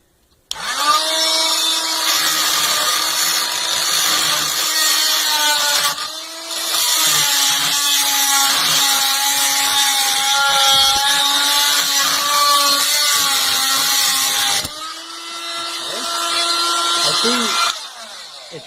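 An oscillating multitool fitted with a HOTBEST metal and wood quick-release saw blade grinds steadily through a drywall screw, giving a loud, sustained high-pitched buzz that pauses briefly twice as the blade shifts.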